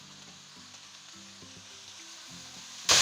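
Vegetables frying in a pan with black pepper, white pepper, chicken powder and Chinese salt for chicken fried rice, a steady close sizzle with stirring clatter, ending in a sudden louder burst.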